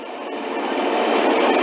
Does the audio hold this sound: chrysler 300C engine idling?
yes